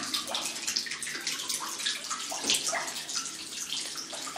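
Water flows steadily from Tala n Tmalutt, a village spring fountain in Kabylie, a continuous splashing trickle that stays fairly close with no voices over it.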